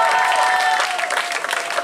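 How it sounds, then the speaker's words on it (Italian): A concert audience at a music show applauds, a dense, even wash of clapping that holds steady and then tapers slightly, with faint tonal sounds in the background. "dopo che avete fatto gli applausi a lui"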